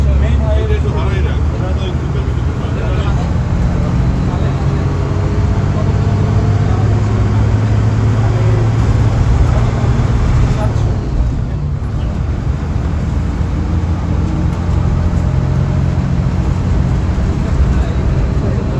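Steady loud engine drone and road rumble inside a Sakura Paribahan bus travelling from Barisal's Nathullabad stand toward Dhaka's Sayedabad, continuous cabin noise with no breaks.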